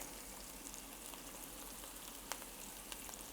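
Minced garlic sautéing with softened onions in a pan for a vegan lima bean dish, a faint, steady crackling sizzle with a few small pops and spits.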